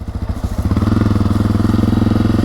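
A Honda CRF250F dirt bike engine running close and loud, its chugging pulses quickening as it revs up, then settling into a fast, steady putter.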